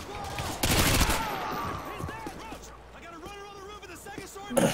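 Call of Duty Modern Warfare 2 gunfire hits in a loud rapid burst early on and then fades into scattered shots, while a voice speaks throughout.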